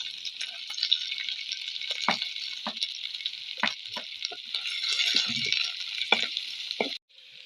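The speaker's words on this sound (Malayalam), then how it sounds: "അപ്പോൾ നമ്മുടെ തേങ്ങ ഏകദേശം മൂക്കാൻ തുടങ്ങിയിട്ടുണ്ട്" Grated coconut roasts in a pan with a steady bright sizzle and occasional spatula scrapes and taps, close and continuous, cutting off abruptly near the end; no speech.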